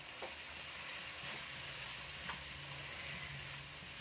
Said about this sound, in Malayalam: ഈ സവാള നമുക്ക് അതിലോട്ട് ഇട്ട് കൊടുക്കാം